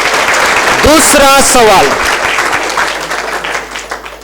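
Audience applause fills a quiz session at a Buddhist gathering, loud clapping sustained for a few seconds, fading gradually while a voice speaks over it.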